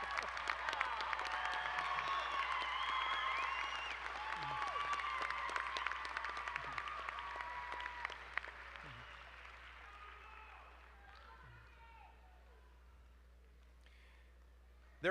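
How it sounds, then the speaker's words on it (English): A university commencement crowd claps for its graduates in a broad, steady wave of applause that gradually fades, with scattered voices and a few isolated claps as it dies down. "let's have one more round of applause for all these graduates"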